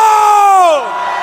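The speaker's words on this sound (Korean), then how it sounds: "전방을 향해 함성!" A crowd roars and cheers loudly at an outdoor political rally in Gwangju, South Korea, while one strong voice holds a long yell that slides downward before the noise settles.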